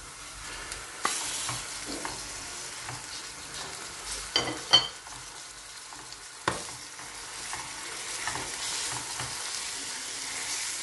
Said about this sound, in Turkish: Kıymayı kaşığımla parçalayarak kavurmaya başlıyorum.